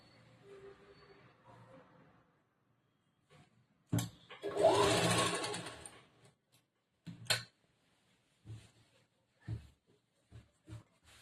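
Sewing machine stitching the lining of a kurta top, a dense burst of rapid mechanical whirring for about two seconds, followed by a few short separate clicks and taps, quiet room with brief faint voice earlier.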